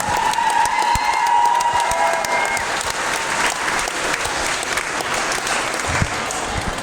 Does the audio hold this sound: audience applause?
yes